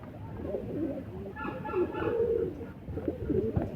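Soft, rolling coos from a red-eyed pigeon at a seller's stock of Kasuri and Rampuri pigeons repeat several times nearby, low and throaty, with faint background noise throughout.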